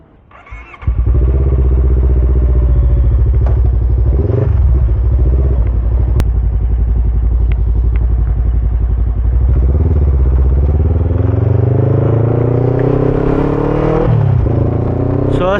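A Voge 500 DS motorcycle engine while riding, a loud, close, steady drone that starts after a brief lull, holds a mostly even pitch with small rises, then climbs near the end as the bike accelerates.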